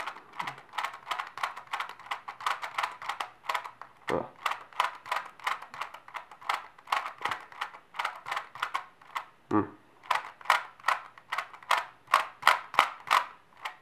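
The wheels of a Rubik's Clock puzzle turn in rapid runs of sharp, close clicks that come in quick bursts, with brief pauses and a few dull knocks between sets.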